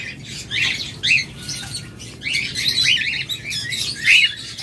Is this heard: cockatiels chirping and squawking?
yes